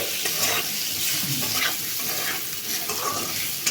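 Turmeric stirred into spices frying in a pan, a loud, continuous sizzle with scraping stir strokes close up and no one speaking.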